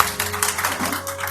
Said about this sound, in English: we give him a round of applause for this beautiful event